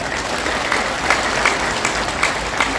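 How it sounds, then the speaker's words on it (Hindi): Sustained applause from an audience at a memorial address honouring martyred Major Durga Malla, steady dense clapping throughout with a few louder bursts, close and alone without speech. "जोर से ताली बजाइए कि दुर्गा मल जी स्वर्गों में सुन रहे होंगे आपकी गूंज को"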